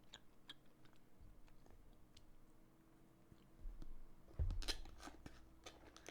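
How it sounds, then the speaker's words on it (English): Someone chewing food close to a microphone, soft wet crunches and bites coming in irregular bursts over a quiet background, louder near the end, with no talking. "I'm chewing them right now."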